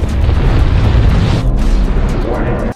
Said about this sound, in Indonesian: Terjadi ledakan yang sangat hebat dari dalam Gaia